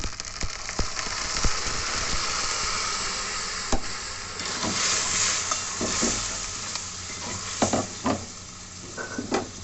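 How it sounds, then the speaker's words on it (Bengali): Chana dal mixed with turmeric, salt and sugar is tipped into a hot frying pan, sizzling loudly and steadily up close while a spatula scrapes and stirs, with no talk. "এবার আমি ডালটা, এর মধ্যে হলুদ দেওয়া আছে, নুন মিষ্টি দেওয়া আছে, দিয়ে দিই।"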